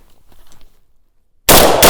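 A Galil rifle chambered in 5.56 fires Winchester 55-grain M193 ammunition. After a stretch of near silence, one or two sharp, loud, close shots burst out and ring on to the end.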